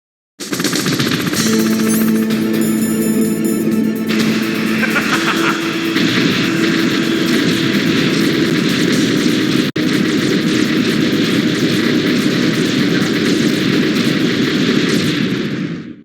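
A Hind attack helicopter fight in Metal Gear Solid on the PS1: a loud, unbroken roar of rotor and engine mixed with rapid gunfire bursts, with tonal game sounds in the first few seconds.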